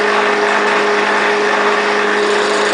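A DC electric motor spins at 3000 RPM, giving a steady, loud, even hum and whir with a constant tone and no change in speed across the short stretch. No one speaks.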